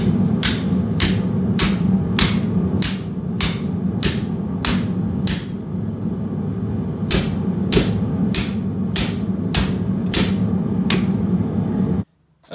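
Steel being hammered while forging a Norse seax: about seventeen sharp, ringing blows at a steady pace over a constant low workshop hum, with a short pause midway and an abrupt stop at the end.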